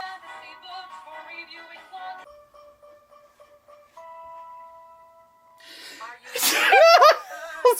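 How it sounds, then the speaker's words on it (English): A loud, sharp sneeze bursts out near the end, after a stretch of soft sung or hummed tones, during a musical parody performance. "I sneezed."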